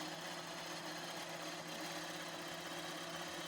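JUKI sewing machine stitching through stacked fabric layers while tacking down a reverse applique pillow cover; a steady close mechanical whir with fine rapid pulsing, continuous throughout and without talk.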